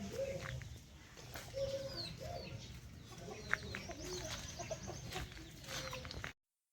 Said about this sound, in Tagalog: Manok na yun.